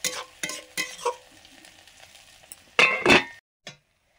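Fish frying in a pan with a little water added, stirred in a few quick, loud scraping bursts with clinks between short pauses, close by and with no talking.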